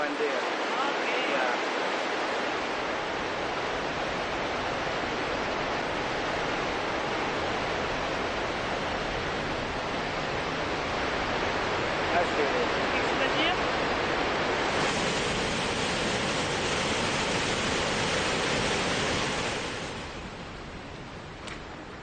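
Waterfalls on the Zambezi river give a steady, loud roar of rushing water with a broad hiss that holds constantly throughout and eases slightly near the end.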